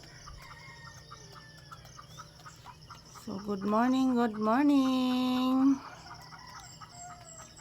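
A rooster crows loudly nearby, a long drawn-out call in the middle, with a person speaking briefly before it.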